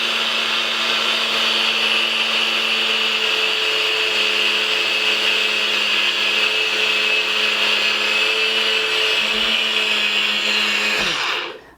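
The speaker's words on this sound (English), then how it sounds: "the machine starts to slow down and it groans and it sweats with the effort" A kitchen blender strains through a thick paleo-ketogenic bread mixture, a loud, steady high-pitched whirring drone for about twelve seconds that cuts off abruptly at the end.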